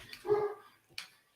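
A dog gives a short, fairly faint bark or yip, followed about half a second later by a second brief yelp, in a quiet room with no talk over it.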